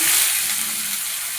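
Sliced onions fry hard in hot oil with cinnamon, cloves, cardamom, fennel and cumin for a mushroom gravy, giving a loud, steady, close sizzle that stays constant throughout.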